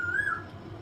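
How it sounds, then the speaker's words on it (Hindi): Asian koel calling nearby over an indoor room, a single bright whistled note that rises and then falls, brief and clear above a low background hum. "आप देख सकते हैं कोयल की आवाज़ आ रही है।"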